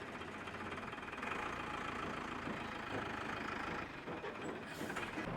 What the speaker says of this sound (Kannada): ಈಗ ಈ ಗಾಡಿ ಹೋಗ್ತಾ ಇದೆ ನೋಡಿ ದೊಡ್ಡ ಗಾಡಿ